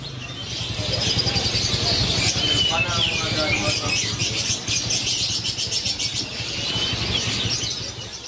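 Many caged birds, lovebirds among them, chirp and twitter steadily at a bird market in Denpasar, Bali, a dense, continuous chorus of high calls under a speaking voice and crowd noise.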